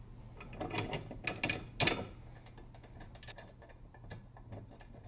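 Nut being fastened onto an axle bracket of a DR Leaf Vac, producing a run of quick metallic ratcheting clicks that swell in the first two seconds and then settle into softer, sparser ticks close up.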